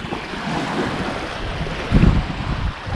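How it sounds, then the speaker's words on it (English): Strong wind gusting across a lake on a bass fishing trip, a steady roar of wind buffeting the microphone over lapping water, swelling into a louder gust near the end, with no voices. "A lot of wind."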